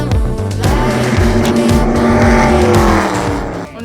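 Race car lapping a circuit in Orlando, engine roaring loud and close with rising and falling pitch and brief tire squeal, continuous throughout.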